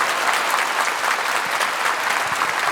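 Audience applause at an event in the Manežas venue, a dense, steady wash of clapping from a large crowd, sustained evenly and loud throughout without pauses.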